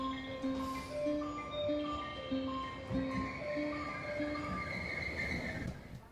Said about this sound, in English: this is my train just arriving